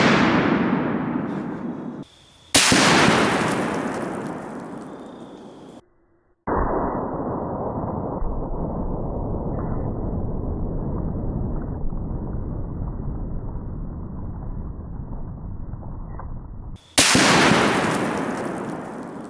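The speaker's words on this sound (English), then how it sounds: "Let's hit it again with the 50 BMG." A .50 BMG rifle firing an armor-piercing incendiary tracer round at a 380 lb Atlas stone outdoors, with sharp, loud blasts whose echoes decay, and a long steady roar in between.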